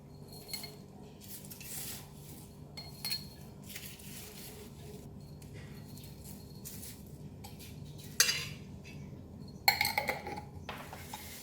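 Crispy fried shallots spooned from a bowl into a glass jar, with light clinks of utensil against glass and a soft rustle of the crisp pieces, quiet and close, with two sharper clinks near the end.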